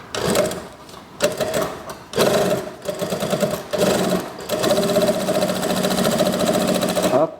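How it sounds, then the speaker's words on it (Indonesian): An electric sewing machine runs in steady bursts, stitching a back pocket on a pair of jeans, with short pauses between runs of the whirring motor and a longer continuous stretch near the end. "Nah, kemudian saya akan jahit 2 kali."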